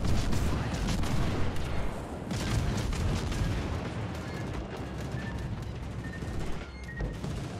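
Ship guns fire in World of Warships while a Minotaur cruiser battles: dense, overlapping rumbling booms with a continuous low roar, loud throughout, and a voice talks over the barrage.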